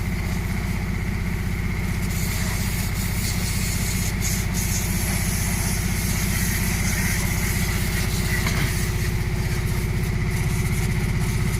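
A steady, rumbling tractor engine idling nearby, with a constant low throb throughout and no voices.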